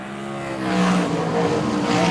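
Modified race cars roar down the back straight at Greenstone Park Speedway, a loud engine drone that swells and rises in pitch as the cars pass, with a hint of tire noise and no talk.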